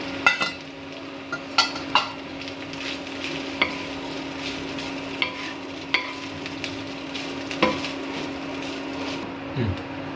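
Cooked rice with betel leaves is stirred in a pan, with sharp scrapes and taps at irregular intervals over a quiet sizzle and a constant low hum.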